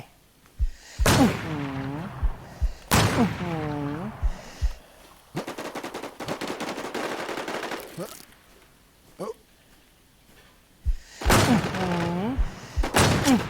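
Video-game gunfire crackles in sharp bursts, with several rapid automatic volleys separated by pauses and a dense sustained stretch of shots in the middle, interspersed with short thuds and clicks.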